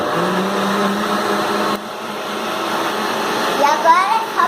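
A kitchen blender whirs steadily, blending cream into a mixture, a constant loud motor drone that briefly dips in pitch partway through, with faint voices near the end.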